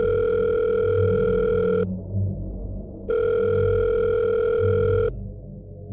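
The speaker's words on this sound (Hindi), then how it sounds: "एक रूम के गेस्ट ने कॉल किया।" A hotel room phone ring sounds twice in long, loud bursts separated by a short gap, over a low rumbling background of a windstorm outside at night.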